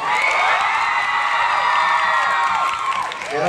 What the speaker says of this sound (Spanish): Así que un aplauso para ti.